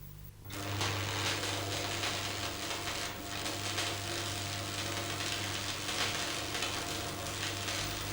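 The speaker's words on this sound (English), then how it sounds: "for thin metal, about 3 mm, it's best to weld downwards to prevent burning through" Electric arc welding moving downwards along thin metal about 3 mm thick, a dense continuous crackling hiss that holds fairly steady for several seconds, with no talk.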